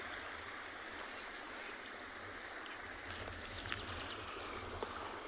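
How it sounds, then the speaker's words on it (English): Water rushing over rocks in a stream at sunset on a safari reserve, a steady broadband wash under faint scattered insect chirps and small splashes, with no voices. "It's actually quite nice just to sit and listen to the sound of the water rushing over while watching them."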